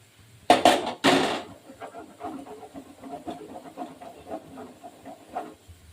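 Boondi batter drops into hot oil with two loud, hissing bursts at the start. A quieter, uneven crackle of the sweets frying follows and continues to the end, with no voices.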